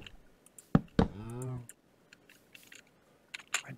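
Computer keyboard keys click in a few sharp, scattered taps while Minecraft is being played. A brief voiced sound falls between the keystrokes.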